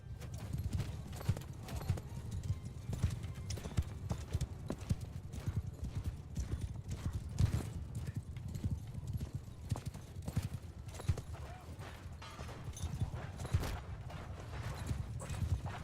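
Continuous thundering hoofbeats of many galloping horses in Mount & Blade, dense and steady throughout, with occasional distant shouts in the mix.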